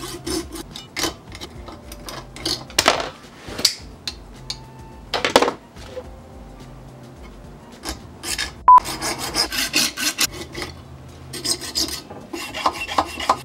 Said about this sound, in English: So I'm going to take probably just a handsaw and remove some of this plastic.